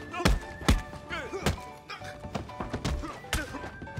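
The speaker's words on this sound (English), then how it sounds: "Bro, I'm wailing on him right now" Heavy thudding punches land in a brawl from Red Dead Online, several hard dull impacts at irregular intervals amid grunts and game noise.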